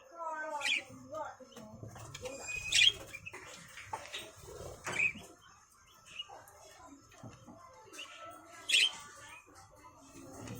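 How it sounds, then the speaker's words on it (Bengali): Budgerigars chirp and squawk in short bursts, a few sharp calls standing out over a quiet, chattering background. "এখানে হচ্ছে বদ্রি পাখি"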